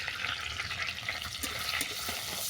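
Whole garam masala, bay leaf and dried red chillies crackle and sizzle in hot oil as they are stirred, a dense continuous frying hiss with soft clinks, no voices.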